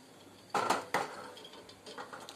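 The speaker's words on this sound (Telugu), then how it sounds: "నేను ఎగ్స్ని స్టవ్ పైన పెట్టేస్తున్నాను" A metal pot of eggs in water is set down on a gas stove with two sharp, close clanks close together, followed by a few fainter clinks, in a quiet room with no talk.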